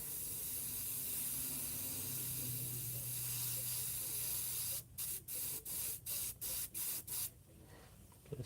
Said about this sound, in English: Let's take the airbrush and go.